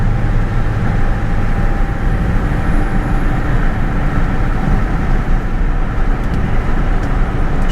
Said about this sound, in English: OBS FORD don't run bad.